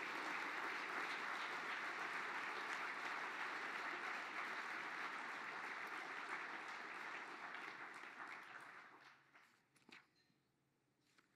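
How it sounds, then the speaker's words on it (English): An audience gives a sustained round of applause for a distinguished lecturer at an engineering excellence gala, dense and even clapping that thins out and fades near the end, heard from a distance at low level. "how about another round of applause for our 44th Distinguished Lecturer"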